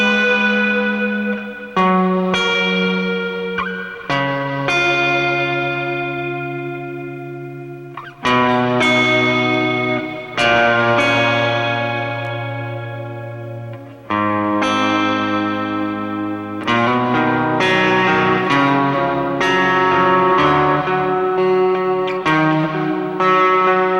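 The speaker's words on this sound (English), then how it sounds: "hearing what this tone with the reverb sounds like on real tape" Sustained synth or guitar-like tones ring out in a slow sequence of chords, recorded on real VHS tape, each note swelling with long reverb tails and a slightly wobbly, tape-worn texture.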